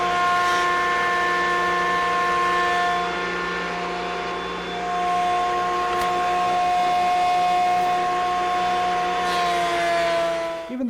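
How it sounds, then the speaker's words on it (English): Thickness planer surface planing thin wood stock, a loud steady motor whine with droning tones that dips briefly mid-pass and cuts off at the end, heard close with no talking. "we'll get started over at the planer by surface planing all our material to the thickness we need"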